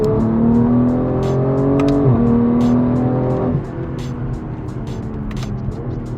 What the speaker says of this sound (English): whenever you give it full throttle, it just goes straight